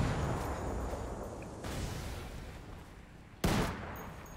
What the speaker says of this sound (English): Oh! Exploding barrel.